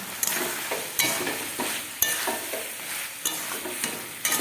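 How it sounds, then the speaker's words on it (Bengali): Fried potato and cauliflower are stirred in spice paste while cooking fish curry, with a steady sizzle and periodic scraping strokes of a spoon against the pan, close and loud, with no talk. "এবার আর একটু ভালো করে কষিয়ে নেবো সবগুলো।"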